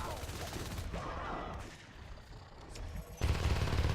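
Gunfire in a large close-range firefight in the game Natural Selection 2, with dense overlapping shots and bursts. A heavier, louder volley comes in near the end.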